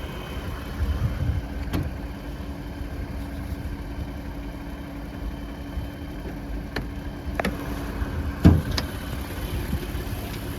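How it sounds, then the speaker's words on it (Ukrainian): A 2017 Audi Q7 engine idles steadily with a low, even rumble, a few faint clicks and knocks rising briefly above the hum. "Двигун працює м'яко, без посторонніх звуків."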